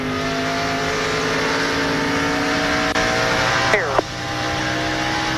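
In-car sound from a NASCAR race car at speed, a loud sustained engine roar at steady pitch with a quick rev change near the end as the car comes off a corner.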